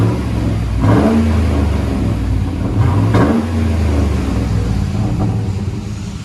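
A Chevy Silverado 5.3L V8 exhaust revving up and down in a few throaty bursts over a steady rumbling idle, loud and close.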